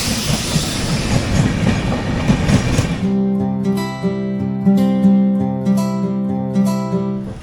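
A local train runs between Dankuni and Sealdah, with loud broadband rumble and rattle at first, then a steady tonal whine over continuous running noise throughout.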